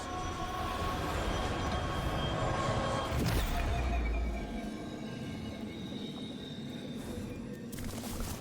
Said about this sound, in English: I am on a train.